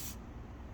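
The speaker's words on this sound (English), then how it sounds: "I'll use the Dawn power wash to spray the tire." Dawn Power Wash sprays onto a car tire in a short hissing burst at the very start, and a steady low rushing background carries on after it.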